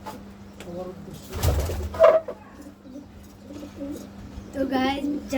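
Racer pigeons, including red checkers, coo repeatedly at close range, with soft throaty calls spread through the clip and a brief flutter, while someone talks over them.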